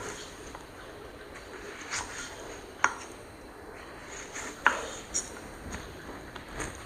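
A knife slicing through tomatoes on a board for a vegetable salad, a few sharp distinct cuts standing out over a quiet, hissy room background.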